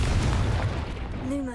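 In the Hogwarts Legacy video game, a Confringo spell explodes as a loud, deep boom with a rumbling tail that fades over about a second, ending in a brief rising tone.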